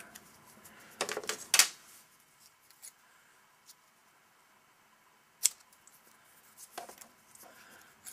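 Scissors trim a freshly printed sticky label indoors with a few sharp snips around one to two seconds, another single cut later, and quiet pauses between.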